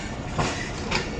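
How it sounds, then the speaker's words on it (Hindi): The Ravi Express passenger train approaches a railway station near Lahore, its wheels rattling in a steady clatter with a couple of brief swelling screeches. "वालबर्टन रेलवे स्टेशन पर ट्रेन अप्रोच कर रही है।"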